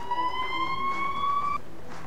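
Ambulance siren in the game Emergency 4, a single rising electronic tone held for about a second and a half before cutting off, moderately loud over a low background hum.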